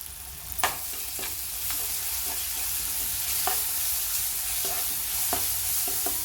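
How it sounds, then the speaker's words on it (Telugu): Onions with ginger garlic paste sizzle steadily in a hot pan while being stirred, with periodic scraping clicks of a utensil over a continuous frying hiss, close and moderately loud, no speech. "ఇందులో కొంచెం అల్లం వెల్లుల్లి పేస్ట్ వేసి బాగా వేగనివ్వాలండి"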